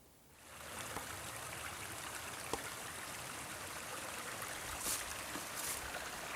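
A wooded creek flows steadily, giving a continuous soft rushing and trickling wash that swells in after a quiet start and holds evenly, with no talking.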